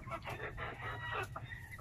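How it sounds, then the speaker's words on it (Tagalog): Rhode Island Red chickens about five months old clucking up close, a quick run of several short clucks and chatter with no human voices. "Ito po yung Rhode Island Red ko po."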